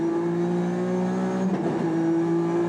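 A race car engine at Suzuka during a 1995 JGTC race, pulling through Degner after an upshift to fourth, holds a loud, steady, buzzing drone with a brief rough wobble partway through, then carries on evenly.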